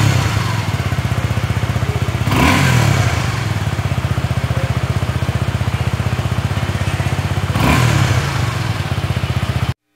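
A 2019 Suzuki Gixxer SF 250 motorcycle idles with a steady, loud, throbbing exhaust beat, briefly revving twice before the sound cuts off abruptly.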